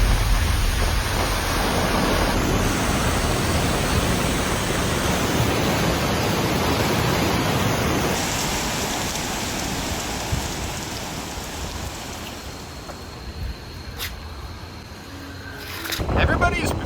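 Heavy rain from Super Typhoon Bavi pours down in Taiwan as a dense, continuous hiss with gusting wind, easing slightly midway before surging again near the end.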